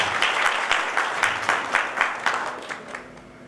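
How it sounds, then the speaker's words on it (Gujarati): Audience applause at a devotional satsang gathering, a steady patter of many hands clapping with rhythmic swells, fading out near the end with no talk over it. "આપણે ઠાકોર એને તાળીઓથી વધાવીએ."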